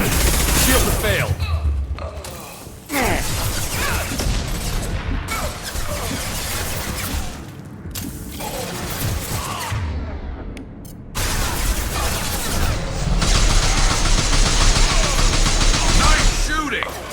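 Heavy gunfire in a Mass Effect 2 firefight, loud continuous bursts and crashing impacts with short lulls, a rapid-fire stretch near the end, and combat voices talking over the shooting.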